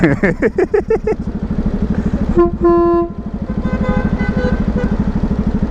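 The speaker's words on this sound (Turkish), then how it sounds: "Ben dayıya çaldım kornayı." A car horn honks in a sustained blast over a loud rumbling engine, preceded by brief rapid clattering bursts.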